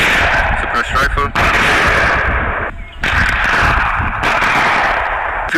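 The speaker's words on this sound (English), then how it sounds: "Suppressed rifle." Suppressed rifle shots fired about 100 meters away, sounding as a series of loud, sharp cracks with brief gaps, booming and echoing across open ground.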